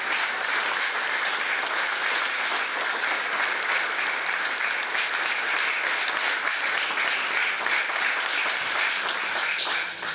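Sustained audience applause at a talk on Freemasonry, a dense, steady wash of many hands clapping at close range for the full length with no voices on top.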